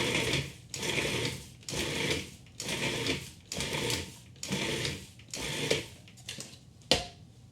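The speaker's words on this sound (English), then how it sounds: "And then I'm going to pulse this until I get little crumbs of butter." A food processor pulses butter chunks into crumbs for gluten-free cracker dough, sounding as about eight loud, evenly spaced motor bursts with short gaps between them, close and with no voices.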